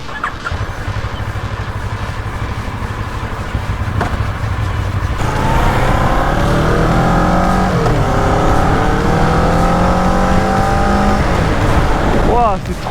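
A loud, close Kawasaki ER6N motorcycle engine revs repeatedly, its pitch climbing and dropping as the throttle is worked.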